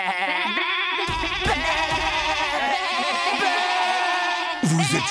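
Goats bleating in a film trailer, several loud, wavering cries that overlap and follow one another almost without a break across the stretch.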